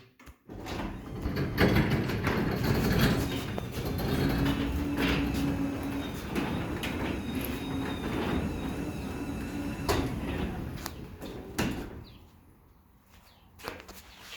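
A Liftmaster 87504 garage door opener drives a garage door open with a steady mechanical rumble and rattle that runs about eleven seconds, then cuts off, leaving near quiet and one small clunk.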